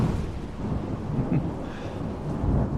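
A thunderstorm in The Haunting of Hill House rumbles low and steady, with heavy rain hissing across the surface throughout a short stretch and no voices.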